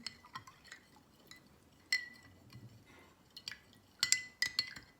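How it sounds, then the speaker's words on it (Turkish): A spoon stirs salt into water in a glass container, making faint, irregular clinks and scrapes against the glass with short bursts of tapping and a soft swirl of liquid, and no one speaks. "Kaplardan birine tuzumu döküyorum. Ve güzelce karıştırıyorum."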